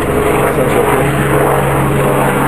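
A Chinook helicopter passing overhead, producing a loud, steady low engine drone with a throbbing rotor hum that fills the whole stretch without any talk.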